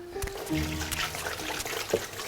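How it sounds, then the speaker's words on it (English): Kitchen tap water runs and splashes briefly, a close, moderately loud trickle and pour with no talk. "I'll get that water running."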